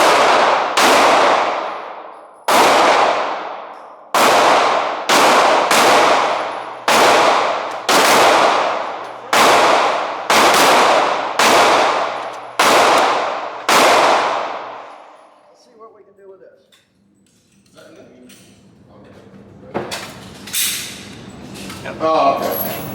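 Gunfire at a shooting range from a Glock Gen 3 Model 21 pistol fitted with an MCK kit: about a dozen loud, sharp shots in a quick, uneven string, each with a ringing tail, then quieter handling noise and talk.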